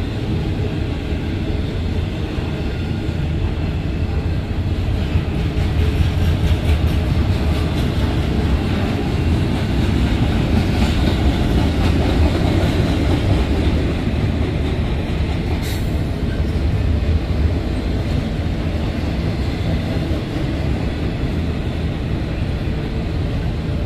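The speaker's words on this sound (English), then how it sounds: "Here are the empties. The ACUs are coming up any second." A freight train of empty cars rolls past near a tunnel in Gallitzin, Pennsylvania, a loud, continuous rumble and clatter of wheels on rails with a brief squeal midway.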